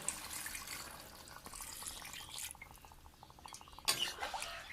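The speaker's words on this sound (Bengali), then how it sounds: "এবার এর মধ্যে দিয়ে দেবো জল।" Water pours into a cooking pot for an egg and potato curry, a steady close splashing stream that ends in a few louder drips and clinks.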